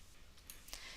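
A few soft, quick mouse clicks, faint and isolated against a quiet background.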